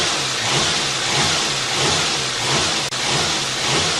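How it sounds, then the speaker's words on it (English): A Toyota engine runs at raised speed with a steady, loud droning roar and faint hiss, holding a slightly pulsing rhythm throughout, with one brief dip near the end. "What will happen when we increase the engine speed?"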